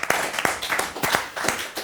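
Scattered clapping from a small audience at a French live show, a handful of sharp, uneven claps spaced through under two seconds.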